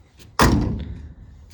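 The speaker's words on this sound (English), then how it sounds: "Nice satisfying slam that these old doors give you" The door of an old 1971 yellow Ford crew cab truck slams shut with one loud, solid thud, then a short fading resonance.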